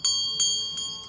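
A Tibetan Buddhist bell is struck several times at a slow, even pace, each bright metallic strike leaving a clear sustained ring that fades between hits, close and alone.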